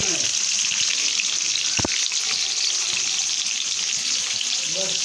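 Hot oil for a biryani sizzles and hisses steadily in a pan, loud and close, a continuous frying crackle with a brief knock partway through.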